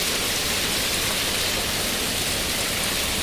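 Heavy rain pours down steadily, a dense, even hiss of drops on surfaces with no pauses, loud and close throughout.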